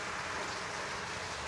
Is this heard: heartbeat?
no